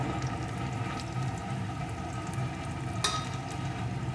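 Chopped onion and crushed garlic fry in a pan for a crab curry, giving a steady, moderately loud sizzle with occasional stirring scrapes and a brief sharper crackle partway through.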